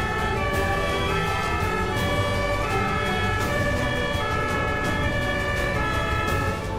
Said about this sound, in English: Here's how Germans react to ambulance sirens, instantly making way for the vehicle.